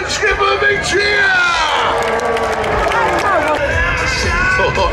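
A big arena crowd at the UK Monster Truck Nationals cheers and whoops loudly for a driver, a dense, sustained roar with shouts and yells layered throughout.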